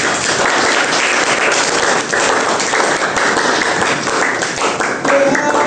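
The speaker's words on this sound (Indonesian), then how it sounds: "Oke, beri aplaus dulu untuk kelompok 1." A classroom audience applauds a student group that has just finished presenting, steady dense clapping filling the whole stretch without a break, loud and close, with a few voices murmuring underneath.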